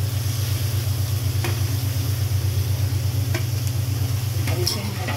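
Cabbage, carrot and capsicum stirred in a hot pan for chicken fried rice, a steady sizzle over a constant low hum, with occasional light clicks of a utensil against the pan.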